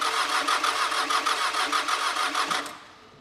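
Cranking 2.2L Perkins diesel in a 1983 Ford Ranger, a loud, steady rhythmic churn from the starter that never catches before cutting off and fading out.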